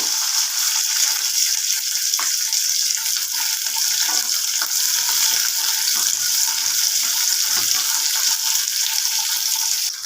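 Small onions and curry leaves fry in oil with a steady, loud, bright sizzle that holds evenly throughout, with faint stirring taps underneath.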